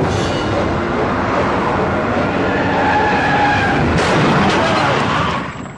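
Two cars race toward each other at extreme speed, a loud, dense roar of engines and tire noise that swells midway with a sharp skid-like burst before fading at the end.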